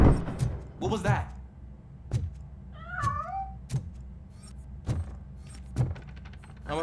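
A cat meows in Robocop: Rogue City, a short wavering cry near the middle, set among clicks, thumps and faint talking voices in a game scene.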